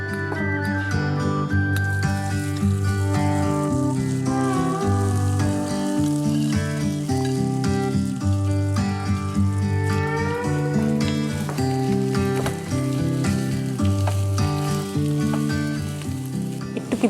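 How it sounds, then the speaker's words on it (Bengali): Tuna fish pieces fry and sizzle in hot oil in a home kitchen, a steady crackling hiss running throughout, with some musical tones heard over the sizzle. "আমার তেলটা গরম হয়ে গেছে আপু।"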